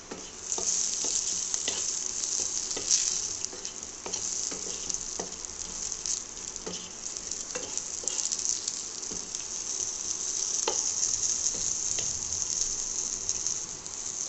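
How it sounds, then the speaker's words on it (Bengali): Dried red chilli halves sizzling in hot oil, a continuous loud crackling sizzle up close with scattered pops and stirring taps throughout, no talk. "এই শুকনো লঙ্কাটাকে দু আর্ধেক করে নিয়ে এই যে দু আর্ধেক করে নিলাম আমি এখানে ছেড়ে দিলাম"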